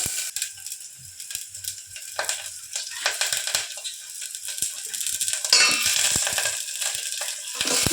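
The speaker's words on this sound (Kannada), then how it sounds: "ಈಗ ಈರುಳ್ಳಿ ಹಾಕ್ತೀನಿ ಒಗ್ಗರಣೆಗೆ." Onions go into hot tempering oil with mustard seeds for a bitter gourd khara: scattered crackles and pops build into a louder, steady sizzle partway through.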